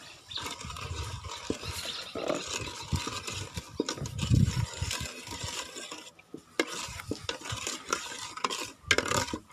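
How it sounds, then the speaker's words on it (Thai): A spoon scrapes steadily around a pot of thick coconut milk with palm sugar, stirring it continuously with soft clinks and liquid swishing up close. "คนให้น้ำตาลละลายแล้ว"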